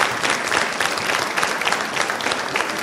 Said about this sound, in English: Can you please uh, give them another round of applause?